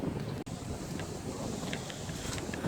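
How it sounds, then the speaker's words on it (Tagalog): Steady, loud wind at the seashore buffets the microphone with a broad roaring rush, broken by a brief dropout and faint high tones. "Lakas talagang hangin."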